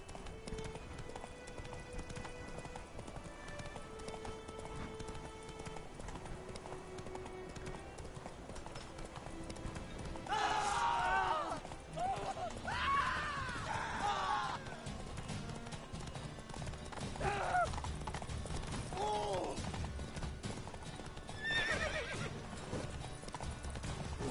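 A horse gallops in The Witcher 3, its hooves clip-clopping steadily throughout, with several loud neighs and whinnies breaking in partway through; the sound is fairly quiet overall and no speech is heard.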